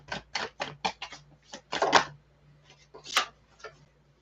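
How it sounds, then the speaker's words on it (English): Tarot cards being shuffled by hand: a series of quick papery riffles and slaps in irregular bursts, close and fairly quiet, with a brief louder flurry near the end. "did I just forget how to shuffle?"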